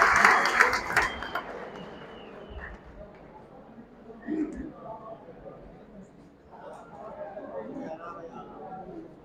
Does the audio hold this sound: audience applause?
yes